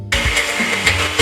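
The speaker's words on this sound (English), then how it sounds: "Let's get a lid on. We're going to blitz." A blender with the lid on blitzes a Jamaican-Thai curry paste in a home kitchen. After a brief silent start the motor kicks in and whirs loudly and steadily, with rising surges as the blades catch the contents.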